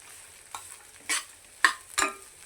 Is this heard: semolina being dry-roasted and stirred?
yes